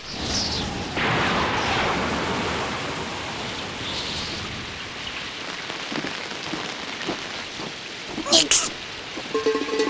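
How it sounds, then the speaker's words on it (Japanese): Rain pours through a forest in a Moomins cartoon, a dense hiss that starts heavy and then thins, while characters talk over it and a few sharp clatters sound near the end. "やっぱりどこかで雨宿りをしよう。"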